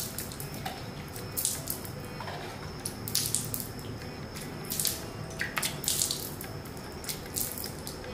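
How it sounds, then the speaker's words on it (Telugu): Water is sprinkled by hand onto a home's front doorstep in the early morning for cleaning. Soft intermittent splashes and patters are heard near and fairly faint, with no talk. "ఇలా కొద్దిగా నీటిని చిలకరించి గుమ్మం ముందు శుభ్రపరచుకొని"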